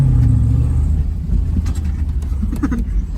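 An abandoned Chevrolet Suburban's engine, left sitting for 13 years, keeps running in a loud, close, rough low rumble that idles unevenly and surges slightly throughout.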